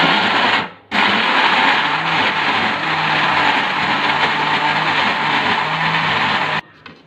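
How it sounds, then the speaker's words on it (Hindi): An electric blender whirs steadily, loud and close, through a mango purée for a mango cake ice cream, starting after a brief pause and cutting off near the end. "अब मैंने जो अपना मैंगो रखा था इसको मैं ब्लेंड कर लूँगी।"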